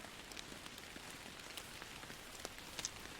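Steady rain falling in the Fishing Planet fishing game, a faint even patter with scattered drops across the whole stretch, no voices.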